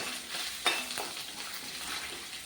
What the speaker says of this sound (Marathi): ते सगळे खडे मसाले या फोडणीत घालून घेणार आहोत आणि हे पुन्हा एकदा आपण हलकंसं मिश्रण परतून घेऊया